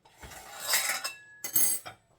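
Metal cutlery clinks and scrapes through a meatball sub casserole with melted cheese and bread, two short bursts of close scraping and tapping against the dish.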